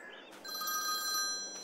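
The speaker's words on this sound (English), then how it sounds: "Oh, phone's ringing now." A phone rings in Farming Simulator 22, a faint electronic trilling ringtone that repeats over a low steady background hum, with no talk.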